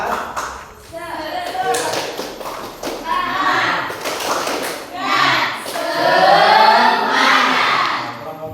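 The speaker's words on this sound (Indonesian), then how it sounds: "1, 2, 3. Tepuk semangat." A class of children performs a rhythmic clapping chant, their claps and taps falling in patterned bursts between loud group chanting, close and lively throughout.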